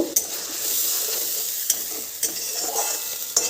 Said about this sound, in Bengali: এবার দিয়ে দেব মশলা এবার দিয়ে দেব লবণ দেব হলুদ দিয়ে বেশ ভালো করে কষিয়ে নেব